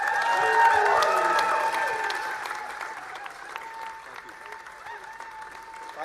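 A crowd applauds a by-election victory speech in Makerfield, a dense, sustained clapping that is loudest at first and slowly thins, with talking heard over it.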